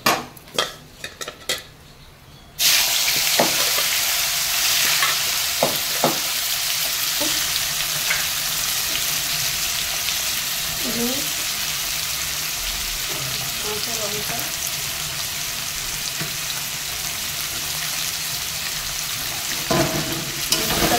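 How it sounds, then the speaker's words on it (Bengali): Figs are fried in a pan after fish, with clatter and knocks for the first seconds, then a loud, steady close sizzle that runs on with occasional stirring scrapes and taps. "এবার আমি ডুমুরটা ভেজে নেব"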